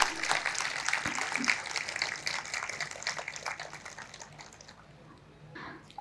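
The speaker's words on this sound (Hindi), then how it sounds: "पुनः उनके लिए बहुत सारी तालियां।" Applause from a literature festival audience for a speaker at an inaugural ceremony, dense clapping that stays steady and then thins out toward the end.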